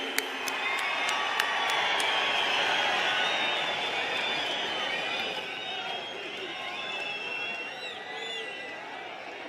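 A large outdoor crowd applauds and cheers for Prime Minister Modi at a public event in Palli, Jammu and Kashmir, with sustained dense clapping, scattered whoops and a steady roar of many voices close and loud throughout.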